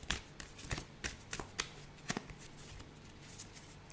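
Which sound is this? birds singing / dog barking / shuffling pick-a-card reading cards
shuffling pick-a-card reading cards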